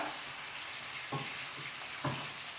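Carrots, onions and red pepper frying over high heat make a constant broad hiss, with two brief scrapes or flips partway through. The sound is fairly quiet and steady throughout, and no one speaks.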